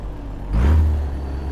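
A video game traffic car engine, a Mustang or Charger, revs up and swells briefly, a low rumble that peaks then settles into a steady idle-like drone.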